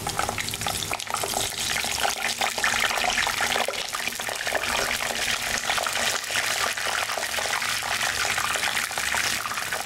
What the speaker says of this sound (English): When the oil is heated, then add these brinjals and fry them.